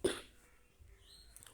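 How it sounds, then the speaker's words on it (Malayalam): A single sharp cough bursts out close by at the very start, loud and brief, then fades into faint room noise with a soft breathy rustle later on. "ചുമക്ക വന്നു"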